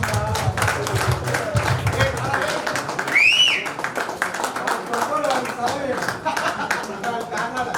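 An audience at a school alumni gathering claps in a loud, continuous rhythmic patter, with voices talking over it and a brief whistling tone partway through.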